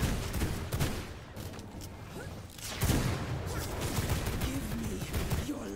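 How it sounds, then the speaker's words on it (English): Gunfire from fighting an enemy in the game V Rising crackles in dense rapid bursts that stay loud throughout, with a sharper surge partway through. "Shoot the blue orbed enemy."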